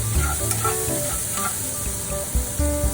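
Vegetables with jalapenos and garlic fry in a pan for a steak sandwich, a loud steady close sizzle with low knocks and clatter as they are tossed, and no talking.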